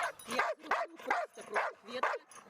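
A young Belgian shepherd rescue dog barks five times in a steady rhythm, each loud bark ending in a yelping whine, close by during a rescue-dog search in a forest.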